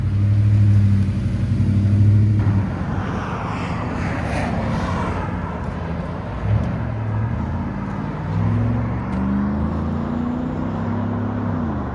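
A 2018 Chevy Tahoe with a 6.2L V8 and a Magnaflow muffler rumbles steadily and deep, with a louder low surge at the start before settling into an even idle-like drone.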